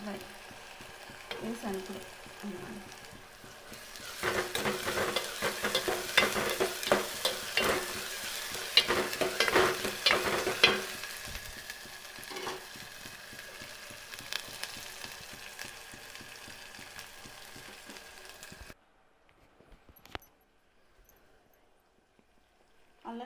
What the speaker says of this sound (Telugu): చిల్లిపాయ కూడా వేగింది